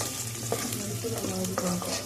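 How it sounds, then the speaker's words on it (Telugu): Sliced onions frying in a pan for a bitter gourd (kakarakaya) karam, a steady close sizzle with intermittent scraping and stirring clatter, no talking. "ఇలా ఆనియన్స్ వేసుకోవాలి. ఆనియన్ లైట్గా ఫ్రై అవ్వాలి"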